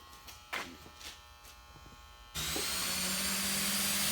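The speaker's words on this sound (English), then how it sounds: "Just making the hole for the rivet." A power drill bores rivet holes in the hood of a 2007 Mustang, starting abruptly partway through with a steady, loud whirring buzz that holds to the end after a few quiet knocks.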